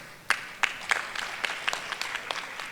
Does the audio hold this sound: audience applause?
yes